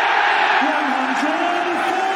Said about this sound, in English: the crowd now right behind Michael Smith in an absolute frenzy